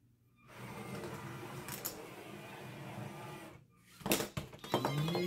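LEGO Mindstorms Inventor robot with an ultrasonic sensor driving forward, grabbing a red ball, spinning and tossing it into a basketball hoop: steady whirring motor drone, then a burst of clicks and plastic clatters near the end.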